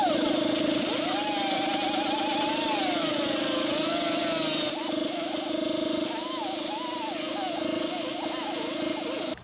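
A sander grinds down the fender armor on a Jeep Wrangler YJ during a fender flare install, a loud steady motorized whine with wavering pitch running continuously throughout, briefly dipping near the middle, with someone talking over it.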